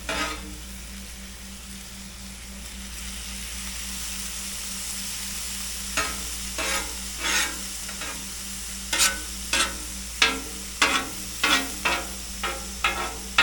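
Cheesesteak buns toast on a hot griddle with a steady close sizzle, and from midway a run of sharp, rhythmic spatula scrapes and taps cuts through the frying.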